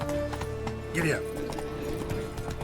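Horse hooves clip-clop steadily in The Witcher 3 as a rider urges the mount on, a rhythmic trotting under game dialogue and ambient music.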